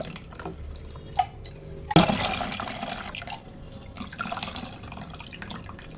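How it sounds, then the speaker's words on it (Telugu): Tamarind juice is poured into a cooking pot: a few faint drips, then a sudden splash and a trickling, liquid pour that continues softly nearby. "ఇప్పుడు ఈ చింతపండులో నుంచి బాగా రసం తీసుకొని ఈ చింతపండు రసాన్ని మనము దీంట్లో పోసుకుందాం"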